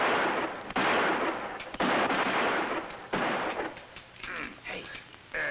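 Gunfire crackles through a comedic slapstick shootout, with several loud, dense bursts of rapid shots in the first three seconds, then sparser, thinner pops and ricochet-like snaps as the shooting tapers off.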